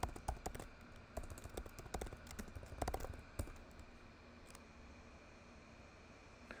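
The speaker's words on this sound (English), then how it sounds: "Let's just type that in." Close, fast keystrokes on a computer keyboard enter a setup command, a quick irregular burst that thins out, then soft isolated taps and quiet room noise.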